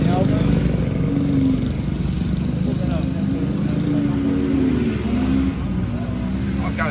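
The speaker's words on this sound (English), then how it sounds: "Oh, it's got a shifter engine." Go-kart with a shifter engine runs at a mini-mayhem racing event, a steady loud buzzing engine drone throughout with people talking over it.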